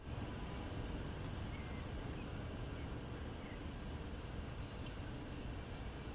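Passenger train carriages roll along in Train Sim World with a continuous heavy rumble, high wheel squeals and a faint rhythmic clatter, steady and close.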